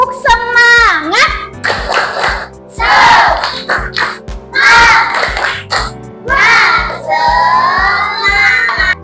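A class of children shouts a rhythmic spirit clap chant in unison with their teacher, loud bursts of voices alternating with sharp rhythmic claps, close and energetic across several seconds.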